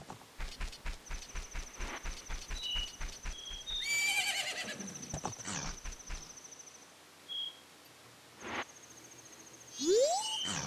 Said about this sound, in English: That is my horse.